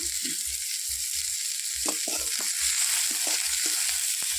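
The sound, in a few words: onions frying in oil with salt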